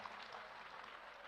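An audience applauds at a religious lecture gathering, a steady wash of clapping that holds evenly for its whole short length, fairly close and with no talk over it.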